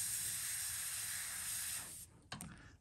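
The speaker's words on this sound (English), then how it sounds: "Make sure that you're definitely on lower pressure with the inks, because they're very airbrush friendly." Steady close hiss of an airbrush on low pressure spraying ink onto a fishing lure, running continuously before cutting off near the end, followed by a couple of short bursts.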